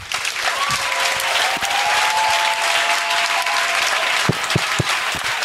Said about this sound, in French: Oh, acclamez le Saint-Esprit.